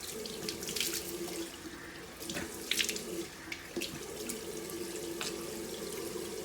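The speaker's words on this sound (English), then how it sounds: "now I'm just gonna go ahead and wash my face with the water" Tap water runs steadily into a bathroom sink while someone washes their face, a continuous close splashing rush broken by irregular sharper splashes as hands scoop and rinse; no one speaks.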